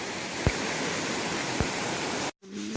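A river rushes at a rough trail crossing, a dense, steady roar of flowing water with a couple of soft knocks. It cuts out abruptly near the end and gives way to a brief low hum.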